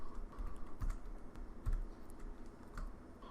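Quiet typing on a computer keyboard while entering formulas in Excel, an irregular run of soft clicking keystrokes close by, with no speech.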